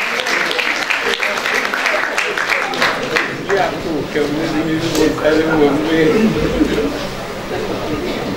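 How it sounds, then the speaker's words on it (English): Applause from an audience, a dense wash of clapping that continues through the clip beneath a speaking voice. "A huge round of applause, audience."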